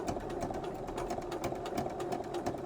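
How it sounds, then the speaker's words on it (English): A sewing machine stitches T-shirt fabric into the seam allowance, a close, steady rapid mechanical whirring with rhythmic needle clatter that stops abruptly at the end. "I'm just going to take it to the machine and I will just sew it into the seam allowance just like that."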